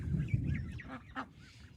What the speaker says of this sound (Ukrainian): Ось качечки смакують залишками від кукурузи.